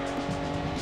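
Race cars in Gran Turismo 2 slide through a corner with oversteer, their engines droning and tires squealing in a brief, continuous burst.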